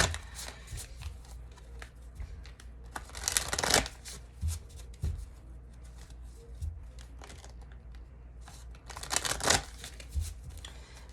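A deck of oracle success cards being shuffled by hand, with close, crisp riffling bursts and flapping card noise in irregular flurries, two louder bursts standing out, no talking.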